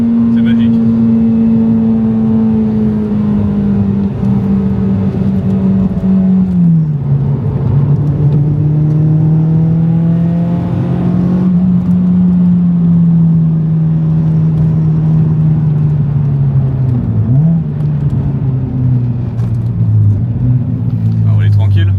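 A Honda Civic EP3 with its K20 engine revs up strongly as VTEC engages, the loud engine note rising and falling in sustained pulls from inside the car, with a voice talking over it.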